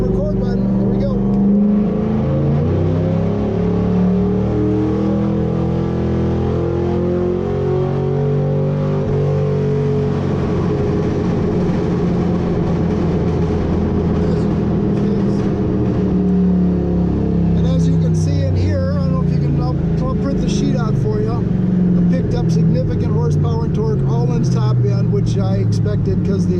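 A 2002 Mustang GT with bolt-on parts revs up in third gear on a dyno. The engine note climbs loudly and steadily, then shifts to a rougher high-rev roar, and someone talks over it.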